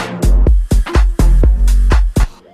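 A brassy synth patch from a bass-heavy electronic track, in a bigger, fuller later section, hits in loud, punchy chord stabs roughly every half second over a deep low end, with no voices.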